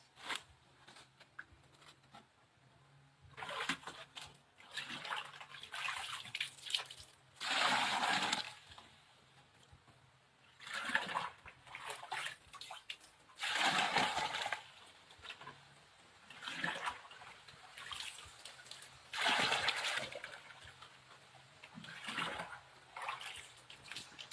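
Water running from a mountain spring in a forest, a broken trickling and splashing flow that swells in several louder bursts and then drops back, close to the listener, with no talking.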